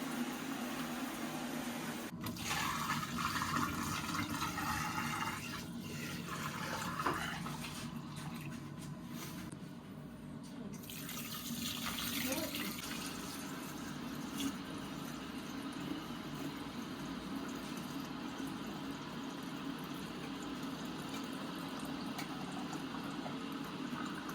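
Liquid is poured to fill a container, a long, faint stream of running and splashing water with a few brief breaks and shifts as the vessel fills.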